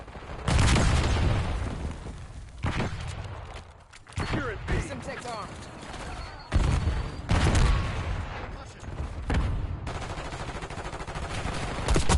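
Bursts of rapid gunfire and heavy booms roll through a video game firefight, including a frag grenade blast, as a series of loud, closely spaced volleys with brief lulls between them.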